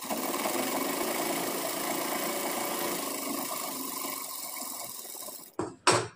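A sewing machine stitches along the upper side of a trouser, a loud steady close whir with a fast repetitive rhythm that runs for about five seconds, then stops, followed by a couple of short handling sounds.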